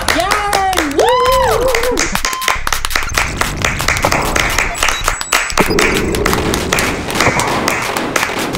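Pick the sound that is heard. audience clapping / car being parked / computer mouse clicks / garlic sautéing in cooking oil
audience clapping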